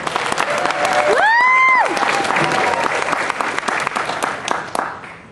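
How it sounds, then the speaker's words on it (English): A convention audience at an anime panel bursts into applause, dense clapping with cheers and a loud whistle near the start before it tapers off. "a round of applause for her."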